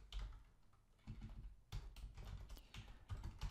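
Steady clatter of fingers typing code on a computer keyboard, quick irregular keystrokes continuing throughout, close and moderately quiet with no voice.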